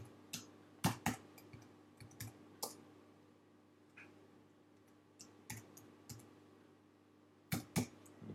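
A computer mouse clicks in scattered single and double taps, close and crisp against a quiet room hum, with long pauses between the clicks and no speech.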